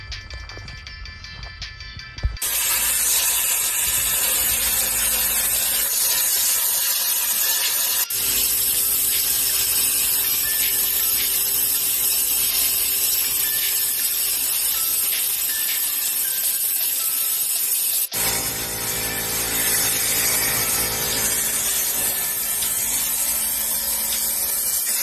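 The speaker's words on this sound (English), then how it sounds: "we're going to go ahead and cut the chassis, or the frame, right through here with the plasma cutter" A plasma cutter slices through a pickup truck's chassis frame with a loud, continuous hiss that holds steady for over twenty seconds after starting.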